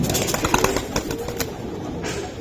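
Road Master pigeons, red khaki line birds at a market, coo in low murmuring calls with some fluttering, close by amid a busy background hum.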